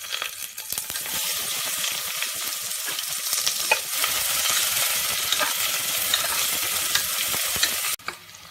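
Sliced onions sizzle loudly in hot oil with whole garam masala spices for a chicken dum biryani, a steady bright crackle with occasional stirring, close up, and the sizzle drops off sharply near the end.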